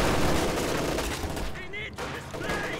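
Machine guns rattle in a Company of Heroes 2 battle, a dense, continuous burst of rapid gunfire with scattered shots, loud and close, with a momentary dip before firing resumes.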